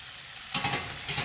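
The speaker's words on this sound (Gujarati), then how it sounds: "થોડી વાર તે તેલમાં આપણે ચડવા દઈશું" Drumstick and potato curry cooks in hot oil with a soft background sizzle, interrupted by two bursts of scraping and stirring in the pan.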